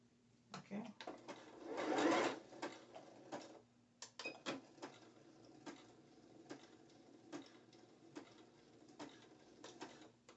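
A sewing machine stitches invisible elastic onto one-piece dancewear, giving short bursts of rapid mechanical clatter with pauses between them, faint and close, with talking mixed in.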